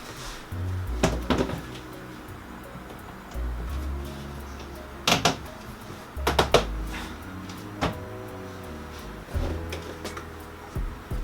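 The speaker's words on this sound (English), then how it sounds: "Like, they still close, they just don't close like super well" Closet cabinet doors swinging shut with loose magnet-less catches, a series of hollow wooden thumps and knocks scattered irregularly across the clip, fairly close, with no talking.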